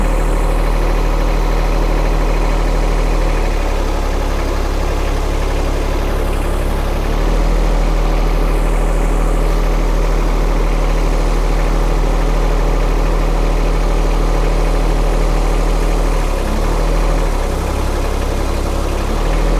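A John Deere sub-compact tractor fitted with pallet forks idles close by, a loud steady low diesel rumble whose pitch and load shift slightly a few times, with no voices.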